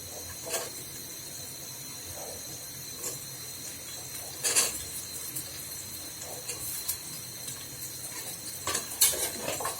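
A spoon scrapes and clinks against a cooking pot as whole cinnamon, bay leaf and green cardamom are stirred for a beef bhuna, with a few sharp metallic taps over a faint, steady kitchen background.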